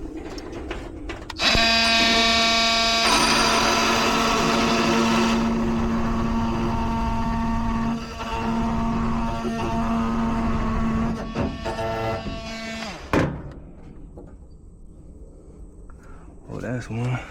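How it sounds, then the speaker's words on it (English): An oscillating multi-tool cutting into a Rheem heat pump during a reversing valve replacement, a loud, steady buzzing drone with harmonic whine that runs for about twelve seconds, then stops abruptly, leaving faint handling noise. "I decided I was gonna get the multi-tool instead."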